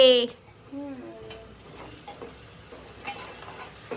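Curry leaves hitting hot oil for a khichdi tempering, giving a brief burst of crackling sizzle followed by softer frying and stirring clinks, with a voice speaking nearby.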